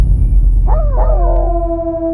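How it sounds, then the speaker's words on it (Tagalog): Several dogs howl together in a rural village at night, rising, wavering tones that overlap and then settle into a long sustained howl over a steady low rumble of background noise. "narinig ko ang mga alulong ng aso sa likuran ng tatay ni Aris"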